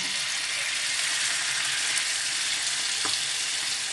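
Fish marinated with coriander seeds fries in hot oil with a steady, loud, dense sizzle that crackles continuously throughout, with no voices.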